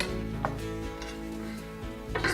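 A knife cuts through a rolled venison burrito on a plate, giving a few soft scrapes and light clinks of metal on crockery over a steady low hum.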